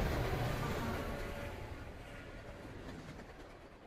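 A train rolls by with a broad, steady rumble and faint rhythmic clatter of wheels on track, loud at first and easing slightly as it continues.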